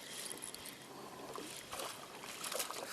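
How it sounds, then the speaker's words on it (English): A stream flowing steadily beside a fishing spot on October Mountain, a continuous broadband rush of moving water with small splashy variations, moderately near and alone throughout. "You can hear the stream coming in here."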